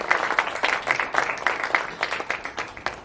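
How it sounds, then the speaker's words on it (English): A modest audience at a political café on the Serbian elections gives a round of applause, with rhythmic, moderately loud clapping that continues evenly for about three seconds. "did we get a round of applause for Geert?"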